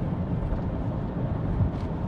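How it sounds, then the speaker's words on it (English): Steady low rumble of wind noise inside a moving 1993 Ford Taurus GL station wagon, a continuous broadband roar with road hum, unbroken and moderately loud throughout. "A little bit of wind noise in the car."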